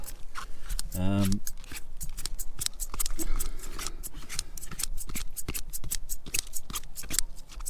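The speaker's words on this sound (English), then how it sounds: "go in there with the worm scissors and give them all a good chop up" Scissors chop up worms with rapid, repeated crisp snips and clicks in a steady rhythm, close by. Talk runs underneath.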